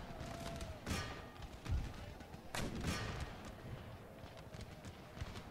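Cannon fire in Empire: Total War booms in a few scattered heavy blasts amid a busy battlefield din of hooves and distant gunfire, with a voice speaking faintly underneath.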